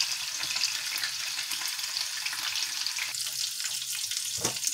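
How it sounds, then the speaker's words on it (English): Filet mignon fries in a hot pan while being basted with rosemary-infused oil, giving a steady, close sizzle and spatter that continues throughout with small crackling bursts. "We're going to keep basting and keep on basting the filet mignon."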